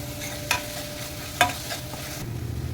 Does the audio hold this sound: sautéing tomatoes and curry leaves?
yes